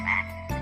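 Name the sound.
frog croaking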